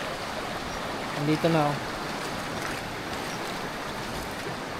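Floodwater from a flash flood rushes steadily past a riverside hammock campsite, a constant broad hiss and roar of moving water while someone speaks briefly over it.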